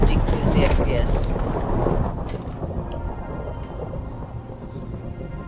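Rain falls and thunder rumbles in the video game Minecraft Bedrock Edition, opening with a loud roll of thunder that fades into a steady patter of rain.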